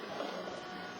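A sewing machine sews a few stitches while inserting elastic, a brief, faint, steady mechanical whir.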